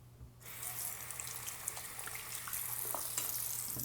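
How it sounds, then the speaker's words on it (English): Running tap water splashes over a King 3K whetstone used for honing straight razors, a steady hiss that starts almost at once and continues evenly to the end. "I just need to rinse this real quick."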